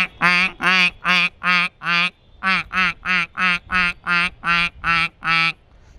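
A man imitates a duck with thirteen loud, nasal quacks in an even, regular rhythm, with a short pause after the first five. The calls are close and clear, with no other sound.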